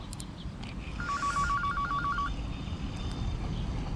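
A phone rings during a feeder fishing session for bream on the Żerański Canal, a short burst of rapid electronic trill pulses over steady outdoor background noise, with no talk.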